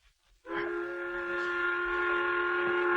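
A long, steady steam-style whistle sounds at a railroad work site to call the midday meal, starting abruptly after a brief quiet and holding loud and unbroken for a few seconds.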